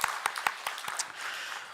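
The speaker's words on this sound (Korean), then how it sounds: "예비 신랑 예비 신부 우리 박수로 축하하겠습니다" A church congregation at a Sunday morning service claps for an engaged couple, a handful of distinct sharp claps near the start blending into light scattered applause.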